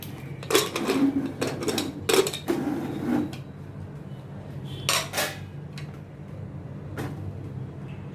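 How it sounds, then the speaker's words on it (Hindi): A pressure cooker of cooked chickpeas being opened in a home kitchen: several sharp metallic clanks and rattles of the lid and pot early on, then sparser knocks against a quiet background. "चने अभी कुकर में ओपन करती हूँ।"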